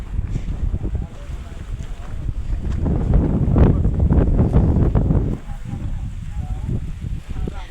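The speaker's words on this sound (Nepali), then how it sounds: "यहाँ त कत्रो ठुलो हावा चल्दो रहेछ" Strong wind gusts across an open hillside near the hilltop temple at Makwanpur Gadhi, Nepal, buffeting the microphone in a loud, steady roar that swells in the middle and eases slightly toward the end, with faint voices beneath.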